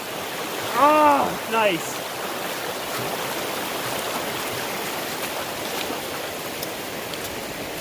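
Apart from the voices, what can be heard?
small mountain creek flowing near Cataract Pass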